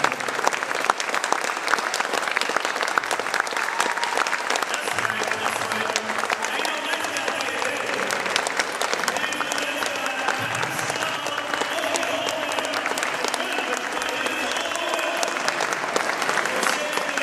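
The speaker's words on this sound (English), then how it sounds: "could we stand up and give them a round of applause?" A crowd at a Nat Turner commemoration gives sustained, loud applause for those who shed blood for their race, with voices calling out and murmuring beneath the clapping the whole time.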